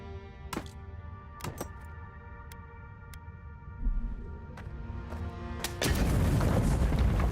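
A grenade goes off in the fantasy video game Avowed, a deep boom swelling into a broad roar near the end, after several sharp clicks and thumps over a low ambient musical drone.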